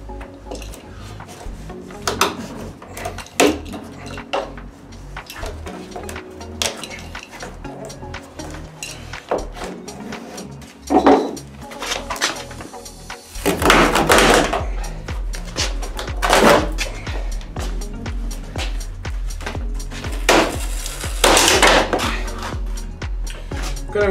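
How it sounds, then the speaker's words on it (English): Plastic trim is pried off the B-pillar of an Audi 2.7 Bi-Turbo donor car, giving a series of close, irregular clicks, snaps and knocks with a louder cluster of cracks midway, without talk. "Just going to remove this plastic trim."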